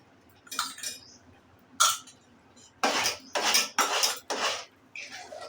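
Corn flour halwa is stirred with ghee in a metal pan, with a series of scraping, clinking spoon-against-pan strokes, some in quick bursts, close up and without talk.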